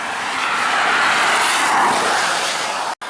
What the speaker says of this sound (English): Loads of cars.